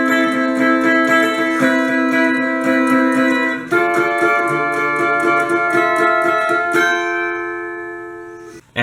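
An electric guitar plays the second-guitar interlude of a song, with sustained ringing chords that shift a few times and ring out, loud and close with no voices.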